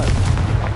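A Confringo blast spell cast in the game Hogwarts Legacy on PS5, a dense, continuous booming rumble heavy in the low end that fills the whole short moment with no clear break.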